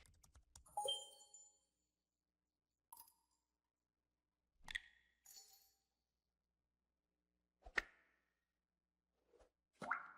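Sparse clicks and short keystroke bursts on a computer keyboard, scattered irregularly across a quiet room with long silent gaps between them.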